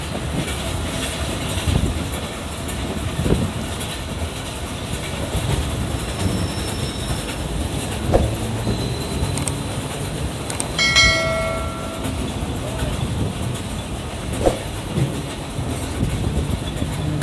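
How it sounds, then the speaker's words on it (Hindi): The Karakoram Express approaches Landhi Junction on the Karachi section. There is a continuous rumble of the passenger train rolling along, with rhythmic wheel clatter and a brief metallic squeal midway, heard from on board, steady and fairly loud, with no talking. "डाउन कराकरम एक्सप्रेस लांडी जंक्शन पर अप्रोच कर रही है।"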